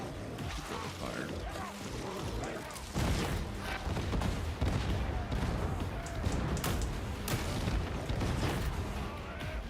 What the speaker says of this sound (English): I just hear explosions and everything's on fire